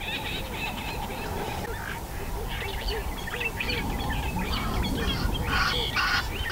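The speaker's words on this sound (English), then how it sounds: "These wattled cranes are statuesque birds." Wattled cranes, a breeding pair in the Delta wetlands, give repeated honking, bugling calls at mid distance, the calls growing louder and denser toward the end over a steady outdoor background.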